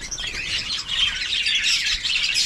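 Small birds chirp and tweet continuously close by, a busy overlapping chatter of high calls with no voices.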